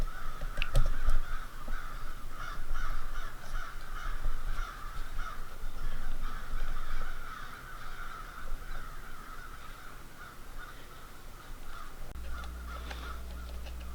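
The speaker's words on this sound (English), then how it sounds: "And we're going to be serenaded by these crows here." Crows caw repeatedly in the open outside an art studio, harsh calls overlapping at middle distance over a steady outdoor background; the air turns quieter toward the end.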